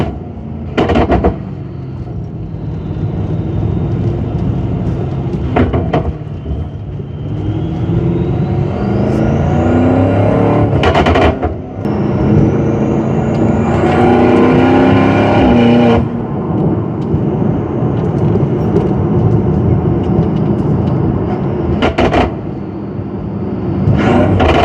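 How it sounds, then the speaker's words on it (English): BMW M5 fitted with an Eventuri intake, downpipe and Stage 2 DME tune, revving repeatedly with sharp exhaust crackles and pops between rising and falling engine sweeps, loud and close, no talk. "this exhaust does crackle, so I'll try to get it to crackle a little bit here"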